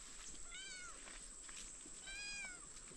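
A cat meows twice in the open at dusk amid a farm plot of string beans and eggplants, each call a rising-falling cry, moderately near and set against a constant high insect drone.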